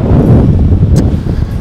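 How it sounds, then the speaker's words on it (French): Strong wind buffets the microphone on an open golf course, making a loud, steady low roar. "Le problème c'est comme il y a beaucoup de vent"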